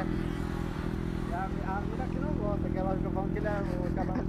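A 600cc motorcycle idles with a steady low exhaust rumble throughout, while people talk over it nearby.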